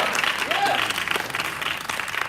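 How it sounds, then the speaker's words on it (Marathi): A crowd at a film trailer launch applauds a singer and music composer with continuous, fairly loud clapping, with some voices mixed in throughout. "त्यांच्यासाठी जोरदार टाळ्या झाला पाहिजे"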